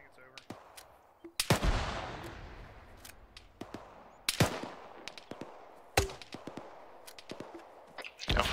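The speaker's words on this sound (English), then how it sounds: "We're taking small arms fire." Small arms gunfire in the video game ArmA 3 during an ambush, scattered loud cracks and bursts with echoing tails, some shots near and some distant, irregularly spaced over a low background.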